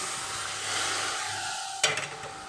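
Chicken keema sizzles and hisses steadily in a pan with stirring scrapes, then a sudden clatter and burst of louder frying as green peas drop in, with the sizzle continuing afterward.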